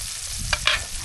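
Freshly caught fish fry in a pan with a steady sizzle and a couple of brief scraping stirs, close and moderately loud.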